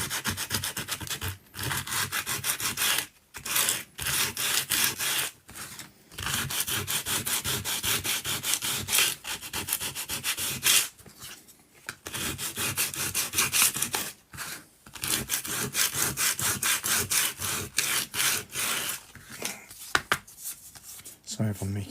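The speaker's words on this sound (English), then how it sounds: "I just need to give it a quick sand" Foamex model stone wall for a miniature French chateau outbuilding sanded by hand in quick rhythmic back-and-forth rubbing strokes, close and scratchy, broken by brief pauses, with a voice speaking during parts of it.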